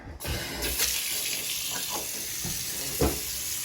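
Water runs steadily from a faucet with a constant hissing splash, and a few soft clunks sound underneath.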